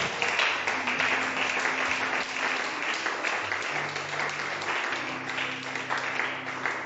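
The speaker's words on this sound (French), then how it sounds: "J'aimerais que tu acclames pour ça." A church audience applauds steadily for several seconds during a French-language sermon, dense continuous clapping with faint voices and a sustained organ-like tone underneath.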